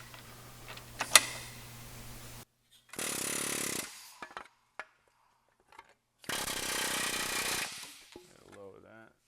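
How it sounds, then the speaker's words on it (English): An air hammer hammers aluminum in a welding shop, two sustained bursts of rapid, loud pounding a few seconds apart, separated by quiet gaps with a few isolated knocks. "let's bring that over to the air hammer, and we'll hammer that down"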